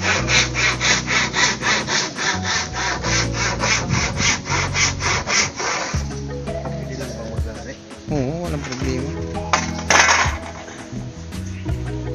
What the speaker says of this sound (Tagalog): naglalagari na ng plywood para sa dito, para ba, lapatan ng yero